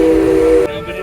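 The train whistle on the Six Flags St Louis park train sounds a loud, close, steady blast that cuts off abruptly after about half a second, leaving a fainter hissing tail.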